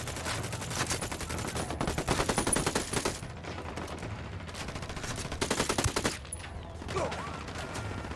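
Rapid automatic gunfire crackles in the video game Ghost Recon Wildlands, with dense bursts from several weapons trading shots in a crossfire, louder at moments and continuing steadily throughout.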